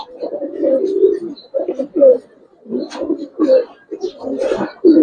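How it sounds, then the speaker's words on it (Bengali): Pigeons of the Giribaz high-flyer breed coo in repeated soft, throaty bursts close by, a steady series of rounded calls with short pauses between them. "কবুতর নটটা দেখেন,"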